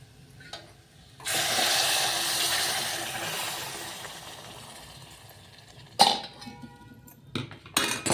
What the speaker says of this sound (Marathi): तर मी टाकत आहे आता इथं पाणी